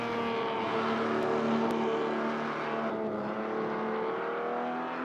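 A race car engine holds a steady, throaty drone with layered harmonic tones and slight pitch shifts, loud and continuous throughout with no voices.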